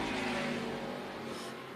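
NASCAR Weekly Series race cars at Tucson Speedway, a dense, loud roar of engines at speed blending into one continuous howl, with no clear voices.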